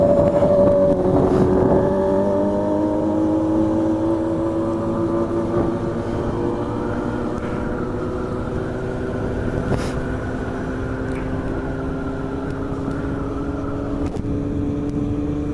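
A Yamaha Fazer 600 motorcycle engine runs steadily, its pitch rising and falling as it revs and cruises, loud and close with a continuous drone throughout.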